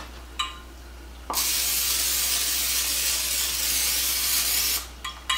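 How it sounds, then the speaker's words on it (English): A steady aerosol cooking spray hisses continuously onto a pan for about three and a half seconds, close and fairly loud, with a couple of small clinks around it. "The first thing I'm going to do is I'm going to be spraying my pan."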